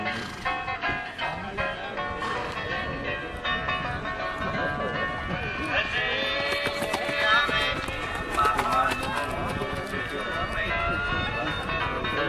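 Horses moving at a gait around an arena during a riding class, with rhythmic hoof clip-clop mixed into steady background noise and music-like tones, while an instructor talks over it.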